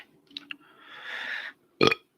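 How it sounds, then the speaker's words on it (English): A burp made close to a microphone gives a short, raspy, rising belch after a couple of faint clicks and breaths, ending in a sharp, loud burst. "I just burped in the microphone."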